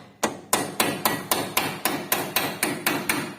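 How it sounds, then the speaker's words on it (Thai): Steady metal hammer blows knocking out a broken roller bearing on a combine harvester, about eleven sharp, evenly spaced strikes, close and ringing, with no talk. "ที่ที่มันแตกเราก็จะตอกออกแล้วก็ เปลี่ยนให้หมดนะครับ"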